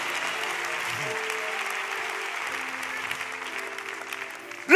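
A church congregation applauds and cheers for Jesus in a steady wash of clapping from a large crowd, with voices calling out beneath it and a louder burst right at the end.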